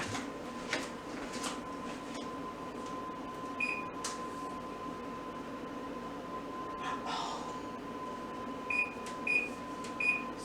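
A kitchen oven's control panel gives a few short, high electronic beeps as its timer buttons are pressed, single and then in a quick cluster, over a constant low appliance hum.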